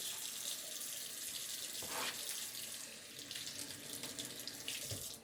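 Tap water runs steadily into a sink while lobster pieces are rinsed, a continuous close hiss and splash with a couple of brief changes as the flow is interrupted.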